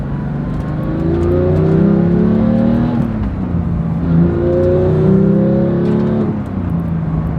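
A 2018 Porsche 911 GT3 with a manual gearbox drives on the road. Its engine drones loudly and steadily, and the pitch repeatedly climbs and drops as it revs through the gears.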